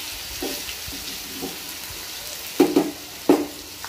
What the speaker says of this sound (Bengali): এইভাবে চিকেনের টুকরোগুলো আমি উল্টিয়ে পাল্টে 2 থেকে 3 মিনিট মতন আমি ভেজে নেব।